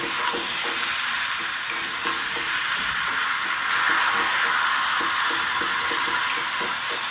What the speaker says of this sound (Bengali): মশলাটার সাথে আলু আর এঁচোড়টাকে ভালো করে নেড়ে চেড়ে মিশিয়ে দিচ্ছি।